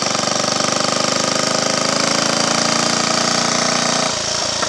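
A Triumph Tiger Cub trials motorcycle, unused for years, runs in top gear on a Roman road with a loud, steady, close engine chug. Near the end the note drops sharply and rough, uneven pulses follow. No voices.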